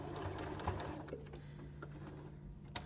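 A sewing machine stitching seams on a quilt block hums softly and steadily with a faint mechanical ticking throughout. It is quiet and close, with no voices.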